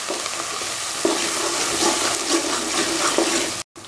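Ginger and garlic paste sautéing in a pan for gooseberry pickle gives a dense, steady sizzle with a few soft stirring scrapes, close and fairly loud, ending in a brief cut of silence.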